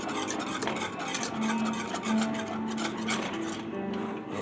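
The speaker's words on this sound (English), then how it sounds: "You just keep stirring. You see it thickening up." A spoon scrapes and rubs steadily around a pot of thickening raspberry vegan cheese mixture on the stove, a close, continuous rasping stir with no talking.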